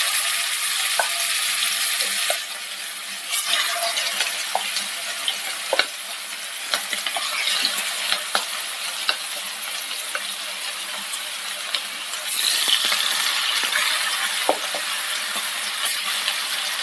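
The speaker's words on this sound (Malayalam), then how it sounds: "നമ്മൾ 30 മിനിറ്റ് മാരിനേറ്റ് ചെയ്ത് വെച്ചിരുന്ന ചിക്കൻ ഒന്ന് വറുത്തെടുക്കാം." Marinated chicken frying in hot oil gives a steady, close sizzle with stirring clatter throughout, the crackle swelling louder for stretches near the start and again toward the end.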